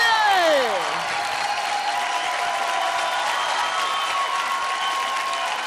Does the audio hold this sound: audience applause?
yes